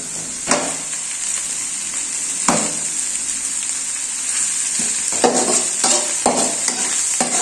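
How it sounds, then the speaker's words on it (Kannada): Onions fry in a pan with a continuous bright sizzle, punctuated by several loud spatula scrapes and stirs at irregular intervals, close up with no talking. "ಈರುಳ್ಳಿ ಚೆನ್ನಾಗಿ ಫ್ರೈ ಆಗಬೇಕು ಸ್ನೇಹಿತರೆ."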